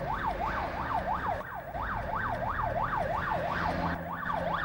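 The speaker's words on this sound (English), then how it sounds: "She can see an ambulance with his lights on, his siren on." A wailing ambulance siren sweeps steadily up and down in a fast, repeating pattern, loud and close over a rumbling traffic background.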